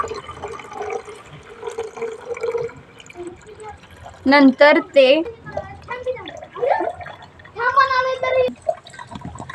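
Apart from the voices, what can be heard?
water poured into a bottle drip irrigation model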